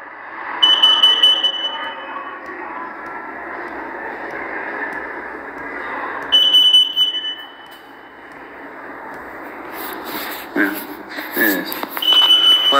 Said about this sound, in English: There's a beeping in your apartment.